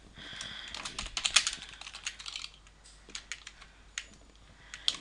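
Fast typing on a computer keyboard, rapid irregular clusters of close, crisp key clicks with short pauses between bursts and no talking.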